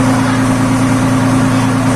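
A ferry boat's engine drones steadily and loudly at close range, a constant low mechanical hum with no breaks and no voices.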